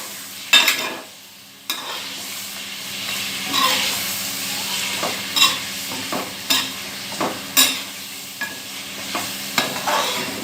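Beef and spices stirred and frying in a karahi for beef karahi gosht, with repeated scraping strokes of a spoon over a continuous sizzle, close and fairly loud, no speech.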